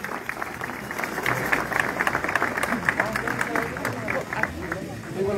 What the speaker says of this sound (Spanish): Un aplauso que se escuche